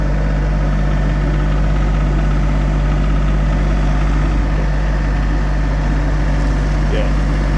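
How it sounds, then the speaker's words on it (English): A tractor engine idles loudly and steadily from close by, a constant low droning rumble with vibration that persists throughout the clip without change. "now she's driving a tractor"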